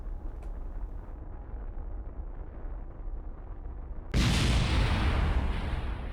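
Rockets ignite in Kerbal Space Program: after four seconds of low rumble, a sudden loud broadband roar bursts in and holds steady to the end.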